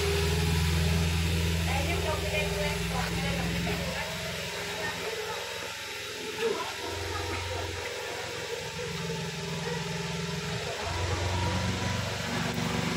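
A Nissan Grand Livina engine runs close by with steady revving and a low exhaust drone, swelling and easing in several throttle pulls; voices talk over it throughout.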